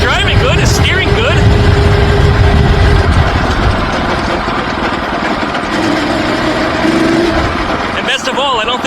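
A go-kart powered by a VW bus engine drives over rough ground, its steady rumbling engine loud and close for the whole stretch, with rattling and someone talking over it.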